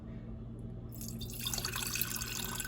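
Filtered water pours from a cup into a measuring cup, quiet at first, then a steady splashing trickle that swells and carries on to the end, with no talking.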